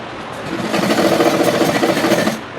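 A sewing machine runs a steady, close, buzzing whir while stitching blouse fabric, rising quickly and holding for about two seconds before stopping.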